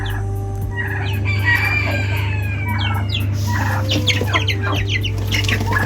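Chickens, including a grey-white bantam hen, cluck and call in a poultry pen alongside turkeys, with a rooster crowing amid the busy overlapping calls over a steady low electrical hum.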